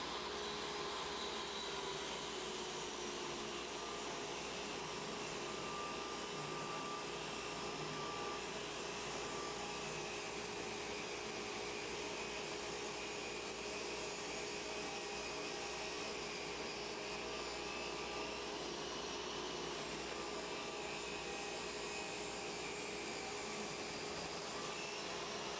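A Hercules HE77 budget table saw running, a steady loud whirring motor drone with a constant hum that holds unchanged for the whole stretch, no talking over it.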